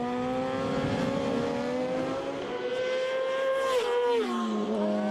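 An LCR Yamaha racing sidecar engine screams on track at the FIM Sidecar World Championship in Schleiz, holding a high, steady whine, then dropping sharply in pitch as it shifts or backs off near the end.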